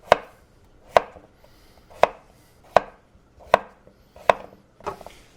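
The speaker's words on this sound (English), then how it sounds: "Now we're going to cut our potatoes." Potatoes cut into equal pieces for Persian Olivieh potato salad: seven firm, evenly spaced knife chops on a board, each crisp and close, with no voices.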